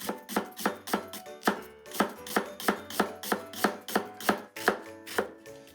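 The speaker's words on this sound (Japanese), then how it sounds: "みじん切り。" A knife mincing onion on a cutting board for hamburger steak, a steady run of crisp, close chops at a quick even rhythm, with no voices.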